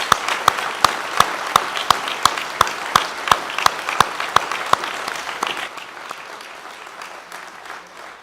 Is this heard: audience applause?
yes